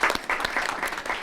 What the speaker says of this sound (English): I think they deserve a nice round of applause for that.